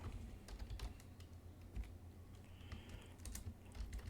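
A computer keyboard types C++ code in quick, faint clicking bursts, heard over a steady low hum and background hiss.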